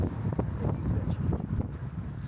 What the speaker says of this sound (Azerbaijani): Küləklidir yaman.